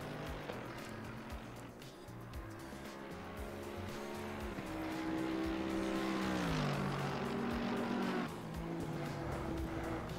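Race car in Assetto Corsa Competizione drives with a steady engine drone that climbs and dips as it shifts through gears, with a faint tire hiss and no talking.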